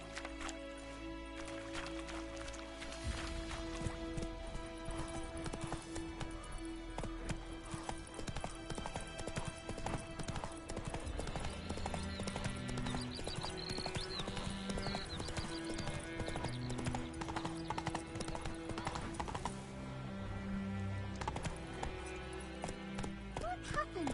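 A horse galloping in The Witcher 3: Wild Hunt, its clip-clop hooves pounding in a fast, continuous rhythm over game music, with a voice heard at the start.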